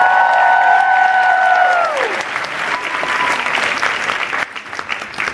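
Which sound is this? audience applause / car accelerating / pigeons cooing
audience applause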